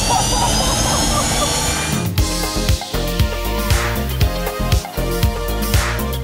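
Fighter jet engines starting up, a loud steady roar with rising whine and rhythmic low mechanical pulses throughout, close by, with some talk mixed in.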